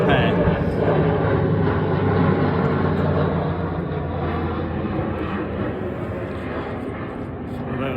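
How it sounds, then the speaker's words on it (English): Steady low roar of an aircraft from RAF Brize Norton passing overhead, a broad rumble that swells and then slowly fades, loud and continuous through the whole stretch. "That was RAF Bryce Norton going overhead."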